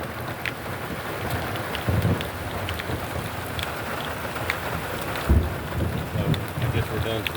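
Heavy rain pours steadily in a thunderstorm with lightning at a work site where a truck has been loaded, with low thunder rumbles and occasional gusts in a continuous outdoor wash.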